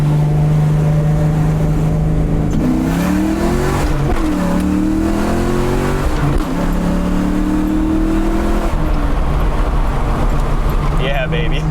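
A 1991 Ford Mustang LX engine rumbles loudly and rises through several revs as it accelerates, the deep exhaust drone through the muffler shifting in pitch, with no one speaking.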